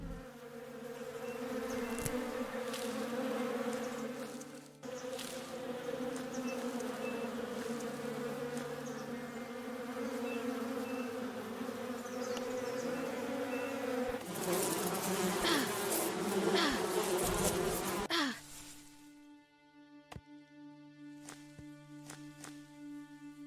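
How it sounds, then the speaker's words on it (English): Bees buzz steadily and loudly in the video game Above Snakes, a dense droning hum that swells near the end before giving way to quieter game sounds. "The bees!"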